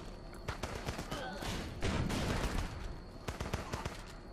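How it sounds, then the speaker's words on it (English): Machine gun fire in the video game Running With Rifles, heard as rapid bursts of sharp shots at a moderate distance over a busy battle din. No one speaks. "Someone on the machine gun, that's good."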